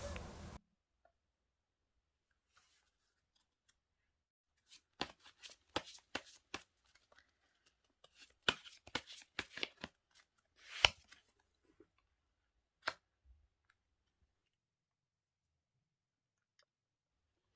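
Tarot cards shuffled in bursts of crisp riffling clicks, near and fairly loud, separated by quiet pauses, with one short handling sound at the start and a last snap near the end.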